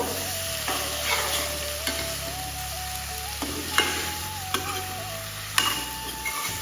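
Bitter gourd and potatoes fry and sizzle steadily in a pan while a spatula stirs them, with light scraping knocks rising above the continuous frying hiss.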